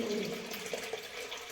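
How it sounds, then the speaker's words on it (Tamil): Water runs from a Nandi statue at the Jalanatheeswarar temple in Thakkolam, a soft, continuous trickle and splash heard close by with no speech. "தக்கோலத்தில் இருக்க ஜலநாதேஸ்வரர் கோவிலில் நந்தி வாழை தண்ணி வருது."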